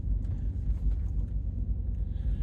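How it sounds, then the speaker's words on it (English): An Alfa Romeo engine idles after repair work with a smooth, steady low rumble, close and continuous, with no talking. "Engine sounds nice and sweet now, no tappety noises or anything like that."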